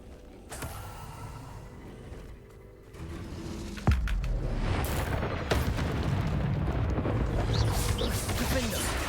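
Blasting-spell explosions from Hogwarts Legacy, a booming burst followed by sustained rumbling debris and crackle, loud and close, with a few sharp pops layered over the roar.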